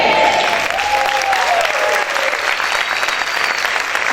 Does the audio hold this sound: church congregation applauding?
yes